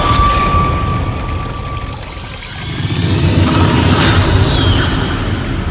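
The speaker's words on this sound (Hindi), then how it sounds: "इस नदी के सहारे, झरना जो बह रहा है" A forest river with a waterfall rushes steadily nearby, a loud, dense wash of flowing water that holds constant with slight swells and no talking.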